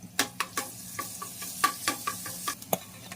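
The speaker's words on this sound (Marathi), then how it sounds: "तेल थोडं तापवून सगळ्यात आधी लसूण जे आपण घालून घ्यायचे आहे" Garlic fries softly in hot oil for a clam dish under a series of sharp spoon or spatula scrapes against a pan, roughly rhythmic and close, no voices.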